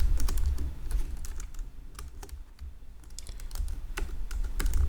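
Fingers tap steadily on a computer keyboard, a close run of quick, irregular clicks with short pauses between bursts, and no voice.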